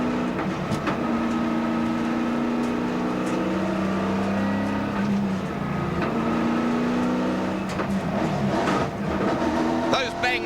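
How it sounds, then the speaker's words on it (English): A touring race car at the 1994 Sandown 500 drones loudly through an in-car engine roar, with sharp bangs from gear changes cutting in, as a commentator talks over it. "those bangs are gear changes."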